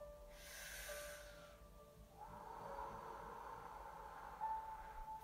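Slow, deep breathing during a guided full-moon meditation ceremony: a long inhale followed by a steady exhale, close and soft with no talking.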